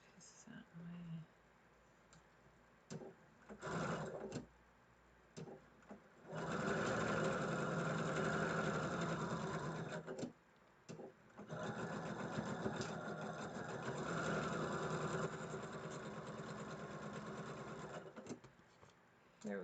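A sewing machine stitches pieces of fabric in two long, steady runs of rapid mechanical whirring and needle chatter, with short stops and a few clicks between them.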